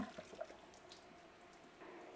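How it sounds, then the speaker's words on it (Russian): Water from boiled spinach drained off into a colander in a home kitchen, a faint soft splashing and trickling flow that lingers at low level and swells slightly near the end. "я сливаю в дуршлаг наш шпинат. Вернее, сливаю воду с него."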